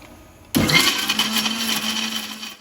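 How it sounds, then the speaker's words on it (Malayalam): A kitchen mixer grinder starts abruptly and whirs steadily at full speed while blending a mango fruit mixture, loud and close, running alone for a couple of seconds with a constant motor whine. "നമ്മൾ മിക്സി അടിച്ചു വെച്ചിട്ട് നന്നായിട്ട് അടിച്ചെടുക്കാം"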